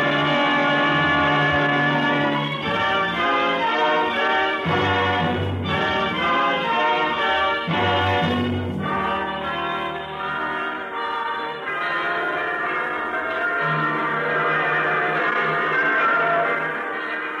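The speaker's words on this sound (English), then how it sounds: "The bells are ringing throughout the land this week." Large bells peal together in a rich, overlapping clang, struck repeatedly in irregular rounds and ringing on with long sustained tones, loud and full with no voices.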